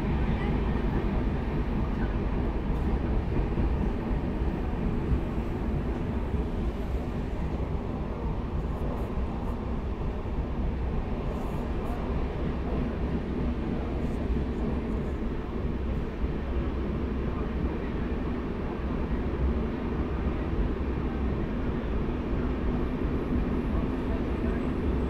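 Onboard rumble of the Rupasi Bangla Express running at speed on the Santragachi–Purulia route behind an electric locomotive, a dense continuous roar and rattle of wheels on rails, steady and close throughout.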